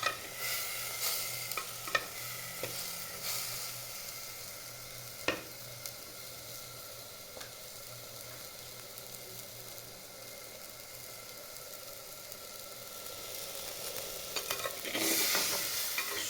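Onion fritters (pakora) fry in oil, likely in a clay pot, giving a steady close sizzle with occasional sharp pops and a louder burst of frying near the end.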